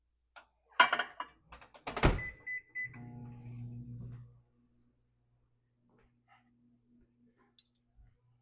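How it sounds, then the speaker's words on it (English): A microwave oven warming food: clicks and a door thunk, a button beep, then a low steady hum for over a second before a closing clack, all fairly quiet in a kitchen. "I'm going to warm this in the microwave just so we have that kind of consistent warm texture on our potato"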